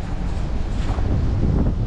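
Strong wind in the Middle East buffets the microphone with a continuous loud low roar and rumble, no voices present.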